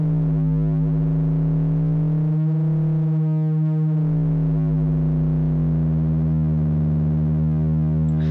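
An FM-synthesis tone from Komplete 9's Monark synth holds a steady pitched drone whose overtones bend and sweep up and down as the modulation shifts, turning metallic and ring-modulated midway, sustained throughout with no voices.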